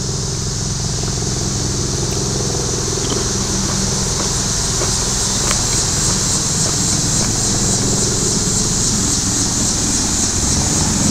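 Helicopters flying overhead a park: a loud, steady engine and rotor drone fills the whole stretch without letting up, with no voices.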